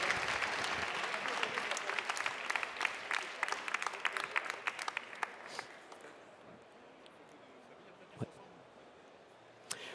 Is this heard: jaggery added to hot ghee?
no